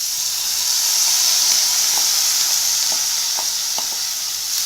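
Chopped cabbage stir-fries in a pan with sautéed onion, red chilies and green chilies, a constant close sizzle and hiss with scattered scraping clicks of stirring.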